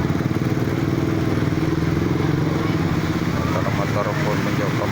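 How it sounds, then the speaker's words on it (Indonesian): A motorcycle engine drones steadily as bikes push through a road flooded by heavy rain after a river overflowed, a continuous loud rumble with clattering and rushing water, someone talking over it. "Motor pun mencoba menerobos."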